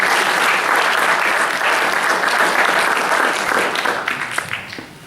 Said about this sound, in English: Can you give me a round of applause,